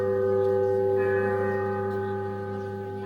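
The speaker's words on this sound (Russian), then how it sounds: "Колокольный звон – это звон памяти." Church bells ring steadily in a sustained, resonant peal with layered overlapping tones, loud and continuous throughout.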